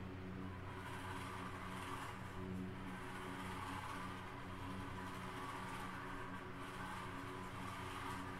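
An OpenZ RC car with a gyro and a GT5 receiver drives and drifts, its small motor giving a steady whine that holds up the whole way through with slight shifts in pitch and no talking.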